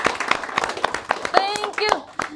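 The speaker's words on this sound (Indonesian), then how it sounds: "boleh tepuk tangan dulu untuk Mas Menteri" A few people clap for the education minister on a podcast set, with separate sharp claps spaced out in an irregular rhythm while voices talk over them.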